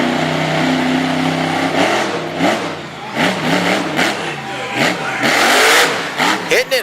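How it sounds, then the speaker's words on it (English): The Iron Warrior monster truck's engine revs hard at a Woodstock, Virginia monster truck show, rising and falling in repeated bursts and sounding strained as if stuck in a low gear, under an announcer talking. "Hitting it hard, but you can hear the engine note change"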